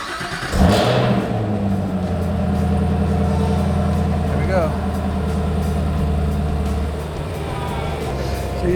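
Car engine firing up after winter storage: a starter catch, then a loud close idle rising into steady revs with a rich low rumble throughout.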